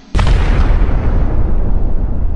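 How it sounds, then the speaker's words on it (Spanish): A single big explosion erupts suddenly and loudly as a sound effect in a horror narration, a broad booming blast that fills the space and rumbles on steadily without fading. "entonces la gran explosión"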